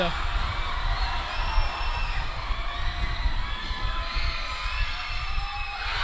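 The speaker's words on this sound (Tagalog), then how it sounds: "the crowd is going wild" A crowd at a junior division basketball game cheers and shouts wildly, with whoops and children's voices in a steady loud roar, under a commentator's voice.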